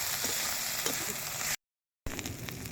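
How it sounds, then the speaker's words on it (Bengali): Onion, green chilli and garlic paste frying and being stirred in a pan, giving a continuous close sizzle with a few faint scrapes and a short break of silence before the hiss resumes. "বাটাটা দিয়ে একটু নাড়াচাড়া করবো বন্ধুরা"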